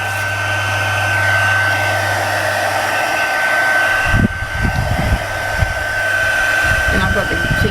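A hair dryer blows steadily at close range over fabric while a book picture is transferred onto it, a constant whirring roar that shifts tone midway as the dryer moves, with some handling noise.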